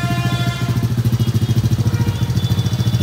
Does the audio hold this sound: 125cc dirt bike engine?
yes